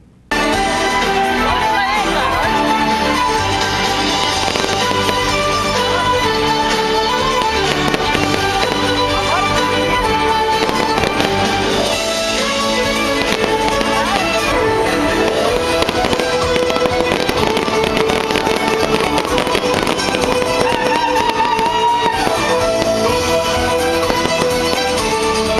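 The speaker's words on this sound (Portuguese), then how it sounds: "A festa encerrou com uma grande queima de fogos." A large fireworks display closes a company celebration in Carlos Barbosa, Brazil, with dense, continuous bangs, pops and crackling bursts layered over one another for the whole span.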